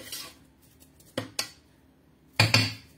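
Cooked potato pieces for a potato stew are dropped into a deep plate, producing a few sharp clinks of utensil on crockery: one near the start, a pair around the middle and a final double knock, close and fairly quiet.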